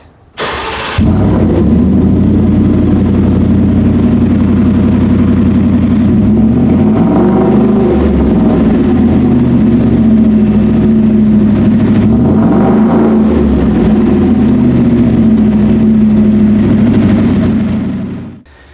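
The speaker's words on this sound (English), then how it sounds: "let me give you just a clip of what this exhaust is going to sound like." A 2020 Saleen Sportruck Ford F-150 pickup engine rumbles loudly with deep exhaust tone, rising in a couple of revs before settling back to a steady idle and cutting off.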